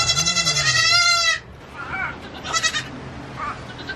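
Goats bleat on a farm during a winter storm: one long, loud, wavering bleat up close, followed by fainter bleats and animal calls farther off, with no talk.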